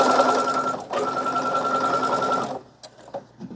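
A sewing machine stitches a decorative pattern on a tea coaster, humming loudly and steadily for about two and a half seconds with a brief pause, then stopping, followed by faint clicks and handling noises.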